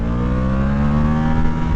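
A V4 motorcycle engine on a test ride drones steadily and loudly with a smooth, constant tone and no voices.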